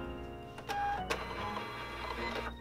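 A Zebra label printer feeds out a self-adhesive shipping label with a whirring motorized run, starting with a click and a short whine, close and steady for a couple of seconds with no talking.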